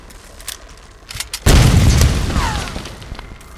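A grenade launcher blast in the Tomb Raider video game erupts midway as a loud, deep boom, its rumble slowly decaying over the following two seconds after a quiet stretch.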